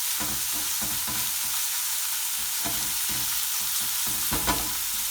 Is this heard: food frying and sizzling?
yes